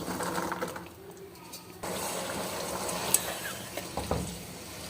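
Peas with salt and green chili stirred and frying in a pan for aloo matar pulao produce a soft sizzle with scraping stirs and an occasional clink, fairly quiet and close.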